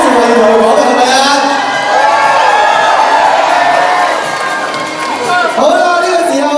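A large crowd at a 21st birthday concert cheers and screams without pause, a loud, dense roar of mostly high voices with whoops rising through it and no break in the noise.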